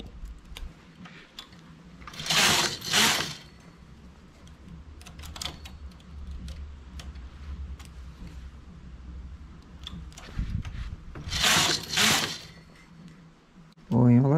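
A knitting machine carriage sweeps across the needles while knitting wide cables made from strips, making two loud rasping passes about ten seconds apart. Quiet clicks and a talking voice fill the gap between them.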